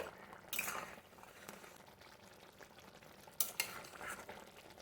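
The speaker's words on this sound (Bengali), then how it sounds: "চাল গুঁড়ি দিয়ে ভালোভাবে একটু নাড়তে হবে" Chicken curry thickened with rice flour is stirred in a pot, with faint bubbling under two bursts of louder scraping and clinking from the spoon against the vessel.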